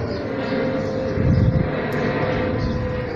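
An airplane passes overhead in hot weather near a house under a flight path, a loud, steady engine roar that swells slightly midway, with no talking.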